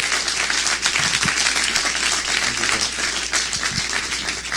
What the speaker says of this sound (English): Can you please join me in welcoming a big greeting and round of applause to Clayton Banks